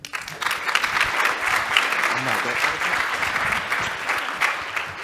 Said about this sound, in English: Now a round of applause for Reggie